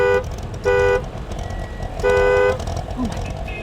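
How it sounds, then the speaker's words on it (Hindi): A car horn honks in three sharp, loud blasts, the last one longer, over steady road traffic noise in a busy Delhi street scene, with voices talking around it. "हॉर्न मारो।"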